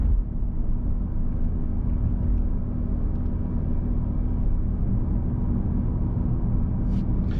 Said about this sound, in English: from the back on idle, the car is pretty loud for a 4-cylinder once again